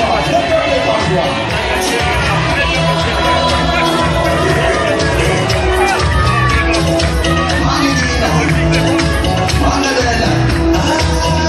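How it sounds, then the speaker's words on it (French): Dense crowd at a political rally in Libreville, loud continuous shouting, whooping and cheering in a steady roar, with voices calling out over it. "On applaudit, on applaudit. Le peuple est en joie, le peuple est en joie."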